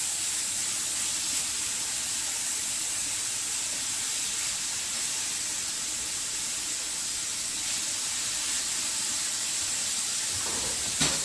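Meat for a stir fry searing in a hot pan, a loud, constant broad hiss and sizzle held steadily throughout with no talking.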